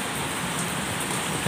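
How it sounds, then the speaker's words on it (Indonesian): Heavy rain falls steadily outdoors, a dense, even hiss of drops on surfaces with no breaks, fairly loud and close and with no one talking. "aku minta maaf ya teman-teman kalau agak ribut, karena di sini lagi hujan ya"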